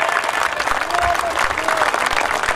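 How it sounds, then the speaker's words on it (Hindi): An audience claps through a live Rajasthani comedy stage show: dense, steady applause fills the space, close and loud, with a voice speaking over it. "याद है भाई साहब, ताली बजाओ"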